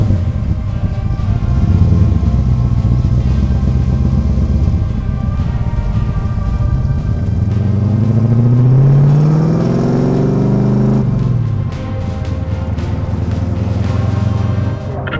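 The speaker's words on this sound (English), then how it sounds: "So let's get it on the road and find out a little bit more about this specific Trans Am." A 1979 Pontiac Firebird 10th Anniversary Trans Am on the road, its V8 giving a steady, heavy rumble close by, then climbing through a long rising rev before it drops back to a low cruise.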